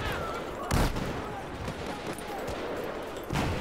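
Several sharp gunshot bursts ring out in Battlefield 4 multiplayer gameplay, spaced a few seconds apart over a busy game soundscape with faint voices.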